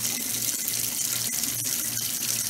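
Tap water runs steadily into a sink while rice is washed, a close continuous splashing hiss with a low hum underneath and a few brief dips as the stream shifts.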